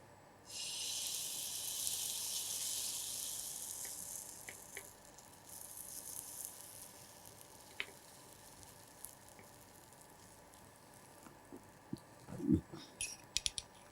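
Sago uttapam batter hits a hot dosa griddle with a bright hiss that rises quickly and fades over several seconds, followed by faint crackles and a few clinks of a utensil near the end, all fairly quiet.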